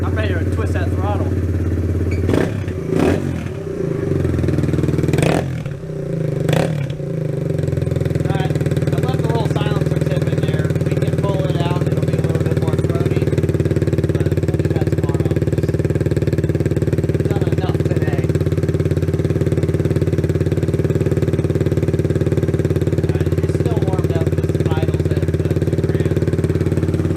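A Kawasaki Z125 motorcycle's engine, warmed up, is revved in a few sharp bursts near the start and then idles steadily and loudly up close, with someone talking over parts of it.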